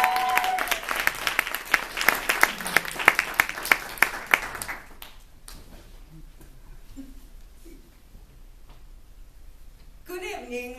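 An audience claps in a burst of applause that fades into scattered claps and murmurs, followed by a voice speaking.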